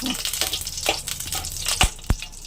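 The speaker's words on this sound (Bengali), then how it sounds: "এবার ঘিটাকে আমি সুন্দরভাবে হাতা দিয়ে নেড়ে পুরোটা গলে আসবে" A ladle stirs melting ghee in a kadai, giving a soft continuous sizzle with scraping strokes and two sharper knocks of metal near the end, close and steady.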